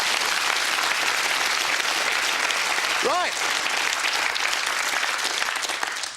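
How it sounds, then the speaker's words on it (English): A studio audience applauds a contestant named Rafat on the 1997 quiz show Whittle, steady dense clapping filling the whole span, with a brief voice cutting in near the middle. "Round of applause for Rafat"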